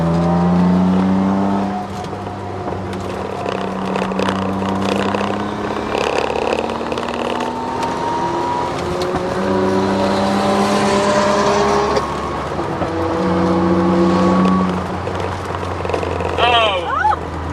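A twin-turbo Ford Sierra XR4x4 drifts on the Silverstone track, its engine revving and shifting in rising, falling sweeps at a steady distance, while people talk nearby.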